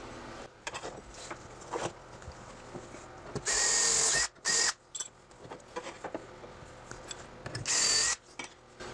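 A power drill boring shelf pin holes into a wooden cabinet on site, heard as several short, loud bursts of high-pitched whirring separated by quieter handling noise and light clicks.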